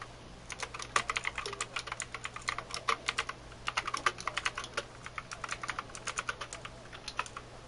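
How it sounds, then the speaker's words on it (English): Rapid bursts of typing on a noisy computer keyboard, close and crisp, with clattering keystrokes in quick uneven runs and brief pauses, and no voices. "Apologies for the noisy keyboard."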